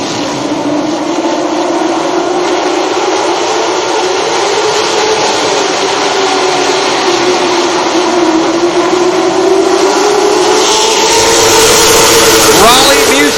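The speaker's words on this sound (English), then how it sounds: "Green flag is out. Late model action's underway again here in Hampton." Late model stock cars roar off the green flag at Langley Speedway in Hampton, a dense, sustained engine drone that rises near the end, with a race commentator talking over it.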